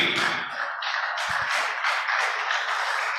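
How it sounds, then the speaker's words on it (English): A crowd at a Nigerian legislative-stakeholders forum applauds as a speaker is called to the stage. The clapping is continuous and dense and holds steady for the whole stretch. "Please, let's keep on clapping until he gets up here."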